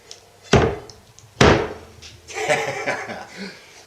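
Two sharp knocks as a cast iron pan is thumped against a surface, followed by a soft, muffled rustle and clatter as cornbread comes out.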